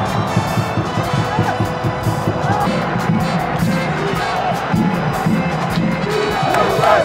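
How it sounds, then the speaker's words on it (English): Stadium crowd at the USA vs Iran World Cup match in Qatar roaring and chanting, a dense continuous wall of cheering and shouting heard from within the stands. "The crowd was hype in the second half."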